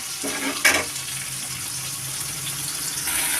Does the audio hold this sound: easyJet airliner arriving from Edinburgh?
no